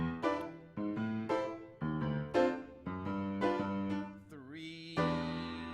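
A piano plays a 3-6-2-5 sequence of rich, jazzy chords, each struck and allowed to ring, with a short bluesy run before the last chord.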